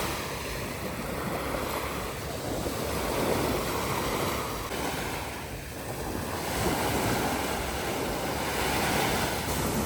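Surf rolls continuously onto a beach on Phu Quoc, Vietnam, with swelling, breaking waves, mixed with wind buffeting the microphone; no voices.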